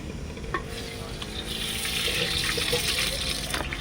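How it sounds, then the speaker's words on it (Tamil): Steady hissing sizzle of hot oil tempering mustard seeds, fenugreek, cumin and curry leaves for rasam, with a few light clinks and stirring sounds, fairly close and continuous. "எண்ணெய் ஊத்துறாங்க அக்கா வந்து ரசம் தாளிக்கிறதுக்காக"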